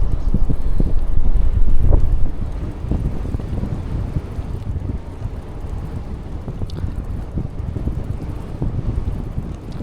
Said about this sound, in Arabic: الريح تحرك، راه عاد تحرك الريح